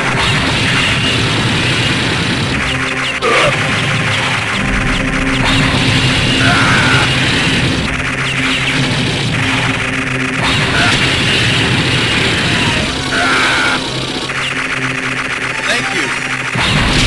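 Rocket launcher explosions and heavy gunfire in the 1999 SNK arcade game Metal Slug X, loud repeated booms and blasts layered over busy game music, with a game voice calling out at times.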